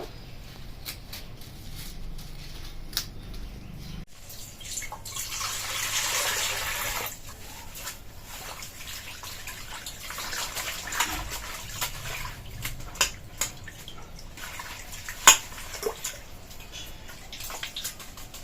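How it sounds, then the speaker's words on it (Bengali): Pumpkin leaves are washed in water at a sink, with running and splashing water swelling for a few seconds, then quieter sloshing and handling with occasional sharp knocks, close by and without talking. "পাতাগুলো ধুয়ে নিব"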